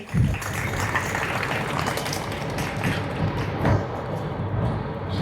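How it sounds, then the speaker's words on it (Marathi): A gathered audience at a devotional talk about Swami Samarth claps in a steady, dense wash of applause that rises and falls over several seconds. "टाळ्या वाजवायला हरकत नाही आहे."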